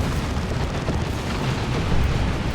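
An Ork Kaboom ability goes off among Space Marine Terminators in Dawn of War 2. It makes a broad, rumbling explosion that roars on steadily for a couple of seconds.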